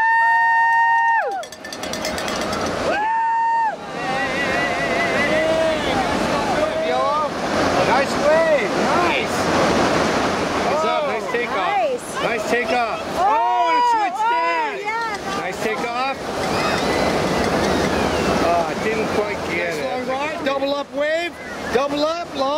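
Ocean surf breaks and washes steadily through a summer surf competition, a broad roar running beneath excited commentary, shouting and cheering crowd voices throughout.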